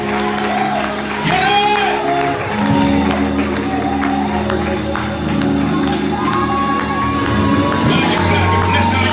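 A church congregation clapping and cheering, with loud shouts and whoops over a dense crowd roar, close and continuous. A leader speaks over the clapping.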